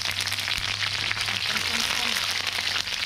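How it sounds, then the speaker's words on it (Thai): Bananas deep-fry in hot oil with a dense, steady crackling sizzle, close and continuous, while someone talks over it. "เมื่อเราทอดกล้วยทอดของเราสุกเหลืองกรอบประมาณนี้นะครับ"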